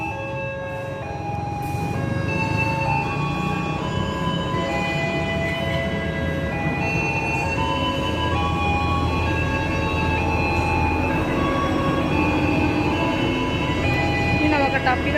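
A train pulls into a station with a steady low rumble and rolling wheel noise building and holding, while a station chime tune plays and a person talks over the scene.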